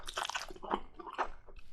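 Someone bites into the forbidden fruit and chews, a close crisp crunch followed by a few moist squishy chewing sounds over under two seconds.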